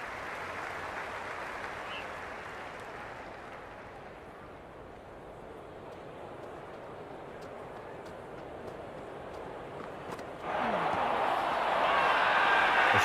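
Stadium crowd at a CSK vs MI cricket match, a steady broad roar of many voices that dips slightly, then surges louder and more excited near the end.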